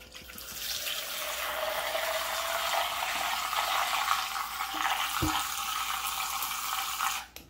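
Water poured into a VOLTRX electric protein shaker bottle, a steady broadband splashing stream running for about seven seconds at close range, with a brief knock near the end, alone without talk.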